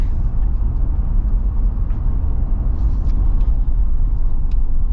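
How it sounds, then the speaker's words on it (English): Inside a 2026 Jeep Wrangler Willys with an 8-speed automatic on the road, a steady low rumble of wind and road noise fills the cabin, even and unbroken, with faint light ticks above it. "I'm already hearing a little bit of wind noise"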